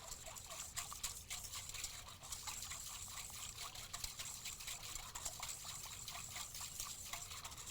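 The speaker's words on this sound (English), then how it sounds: "So we're going to whisk that together." Honey mustard dressing whisked in a bowl, a steady close wet swishing and faint clinking that continues evenly without pause.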